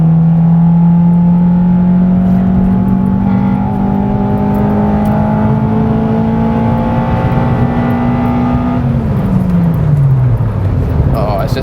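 A Honda Civic Type R EP3 on coilovers is driven along a country B road. From inside the car, its engine holds a steady, rising drone and then winds down as the revs drop, while a person talks over it.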